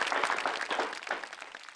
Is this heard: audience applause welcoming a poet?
yes